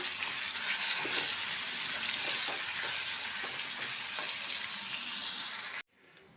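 Green chillies and chopped tomatoes fry for a palang curry with a steady, bright sizzle and faint stirring taps, close and continuous, before cutting off abruptly near the end.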